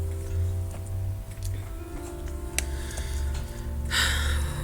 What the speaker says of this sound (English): It's my broken clock.